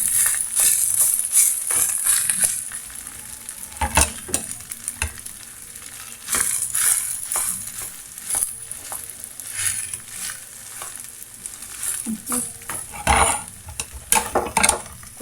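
Stuck-on food is scraped from the bottom of a cooking pot in a home kitchen, a run of rough, repeated scraping strokes with a faint sizzle underneath. It is close and fairly loud with irregular pauses and no talking.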